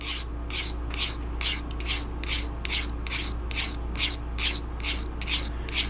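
A hand file sharpens a traditional broadhead blade in fast, even rasping strokes, about two per second, close and steady, with no talking.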